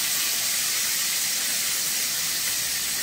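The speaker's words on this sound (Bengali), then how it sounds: "তেলটা আমাদের গরম হয়ে গিয়েছে, এবার দিয়ে দেব পেঁয়াজ কুচি" Chopped onion sizzling in hot oil in a home kitchen pan, a loud, steady hiss that holds evenly throughout with no talking.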